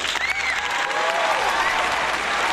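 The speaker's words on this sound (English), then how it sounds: "We got to give this guy a super duper applause." Applause rolls steadily, a close and continuous wash of clapping that holds at an even level for a few seconds with no voices over it.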